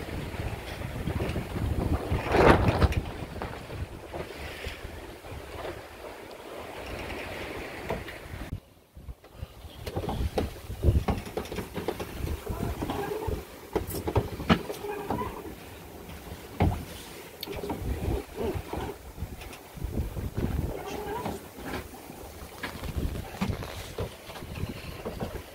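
A home-built sailboat runs downwind under goose-winged sails in a light following breeze, waves washing steadily past the hull with wind buffeting the microphone and faint creaks, a brief drop to near silence partway through.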